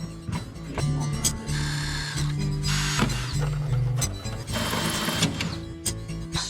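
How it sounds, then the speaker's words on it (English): A power drill works on car interior carbon parts, whining in several bursts with pauses between, its motor pitch shifting under load and rattling mechanically close by. "It's just going to be a case of drilling a few holes and screwing it in."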